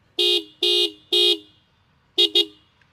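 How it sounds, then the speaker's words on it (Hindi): Dual horn of a 2024 Bajaj Pulsar 150 motorcycle honks three times in even, sustained blasts, then two short quick toots after a pause; close and clear against a quiet background. "बहुत अच्छा हॉर्न लग रहा है"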